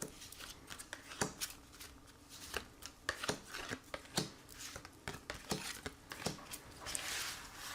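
Tarot cards drawn from the deck for a reading, a close run of soft papery flicks, slides and taps with uneven rhythm, quiet and without talk.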